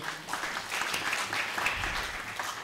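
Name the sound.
audience applause at graduation ceremony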